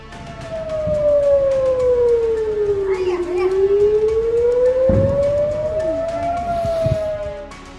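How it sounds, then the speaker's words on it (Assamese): Air raid siren wailing during an Iranian missile attack on Israel, a loud rising and falling civil defense tone sweeping slowly down then up, with faint voices and distant noises underneath. "আক্ৰমণ আৰম্ভ হোৱাৰ লগে লগে বাজি উঠে চাইৰেন।"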